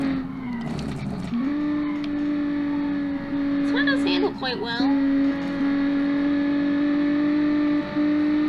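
Simulated car engine from the Automation game, a V6-powered Miata, drones at a steady high pitch while accelerating up a hill, shifting once early on, with someone talking over it throughout.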